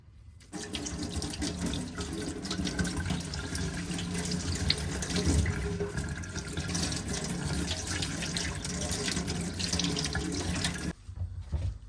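Fresh mint leaves are rinsed under a running kitchen tap, with a steady splash of water into a sink that continues evenly for about ten seconds before cutting off.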